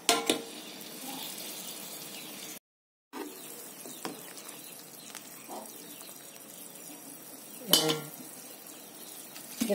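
Fried shallots are stirred into a pot of chicken soup with meatballs, potatoes and carrots, giving soft liquid stirring, a gentle simmer and occasional clinks of a utensil against the pot, with one brief gap.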